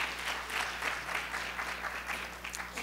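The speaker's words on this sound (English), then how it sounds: "Can you give them another round of applause, please?" Audience at an early learning center children's show clapping, a dense, steady round of applause from a crowd, fairly close and continuous throughout with no talking.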